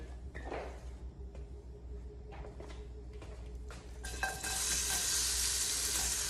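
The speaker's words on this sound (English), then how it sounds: "I've added 2 tablespoons of oil to my pot. I'm gonna add the onions in." Onions frying in a couple of tablespoons of oil in a pot: faint scraping and handling sounds, then a sudden loud, steady sizzle once they hit the hot oil, with no talking.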